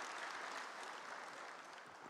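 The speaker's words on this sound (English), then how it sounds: "Another big round of applause for Zimbabwe's Minister of Industry and Commerce, Honorable M. Ndlovu." Audience applause at the official opening of an industrialization week event, a continuous, even roar of many people clapping heard from a distance and fairly faint, with no speech over it.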